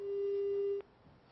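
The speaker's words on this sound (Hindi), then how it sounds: "हाँ शायद फोन कट गया है" A telephone busy tone after a dropped call: one loud, steady electronic tone that holds for under a second and then cuts off, leaving faint background noise.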